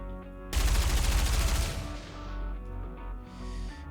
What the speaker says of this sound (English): gunfire rains down from the other side